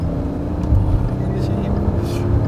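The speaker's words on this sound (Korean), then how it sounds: "노멀 모드에서의 배기음이 저는 더 듣기 좋네요" Steady low engine exhaust rumble from a car in normal drive mode, continuous and moderately loud, with a soft voice faintly underneath.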